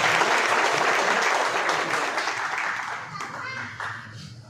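An audience claps together at a Hindi kavi sammelan and mushaira poetry gathering. The dense applause is strongest at first and slowly thins, with a few voices mixed in.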